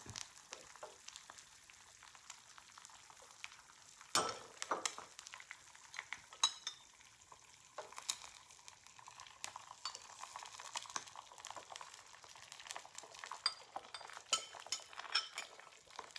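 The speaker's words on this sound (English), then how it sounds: "Once I finish putting the eggs in, I put a lid on the pan so the eggs cook" Eggs frying in a pan, a steady close sizzle and crackle running throughout with scattered clinks and small spatters, moderately loud and without talk.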